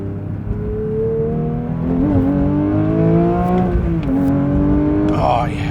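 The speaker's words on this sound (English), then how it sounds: "it makes it so easy to shift and do that full throttle upshift thing" A 500-horsepower Porsche 992 GT3 pulls hard at full throttle from inside the cabin, its engine note climbing steadily and dropping sharply at two quick upshifts before rising again.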